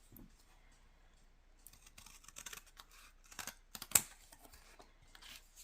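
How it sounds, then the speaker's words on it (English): Scissors snipping through paper while making paper buttons, a series of faint, sparse crisp cuts and rustles that grow busier and close up, with one sharper snip near the end. "just gonna get a pair of my scissors"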